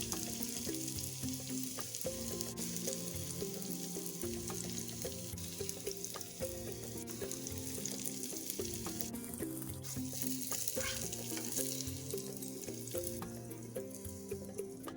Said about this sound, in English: Go ahead and add your bacon. Let this fry until golden brown.